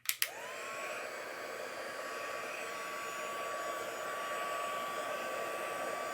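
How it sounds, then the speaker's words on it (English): A heat gun switches on with a couple of clicks and then blows steadily, a constant airy roar and whine while it heats embossing powder on a handmade card. "My heat gun actually reaches here."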